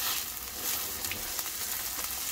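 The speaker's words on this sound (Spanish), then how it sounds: "aquí en este residuo de aceitito que quedó, vamos a poner la cebolla y los dos dientitos de ajo que ahí van" Onion and two garlic cloves fry in leftover oil for a green pipián, making a dense, steady sizzle that crackles constantly and stays loud and close. No one speaks over it.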